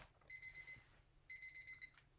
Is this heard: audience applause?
no